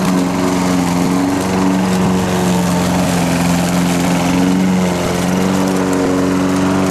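A lawn mower cutting a yard drones steadily and loudly nearby, its engine hum holding a constant pitch with no pauses or voices.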